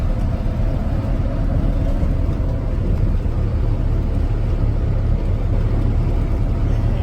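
A 1947 Silversides bus cruising along a highway at about 68 miles an hour, giving a steady, loud, broadband rumble of engine, tires and road noise that holds unbroken throughout with no talk.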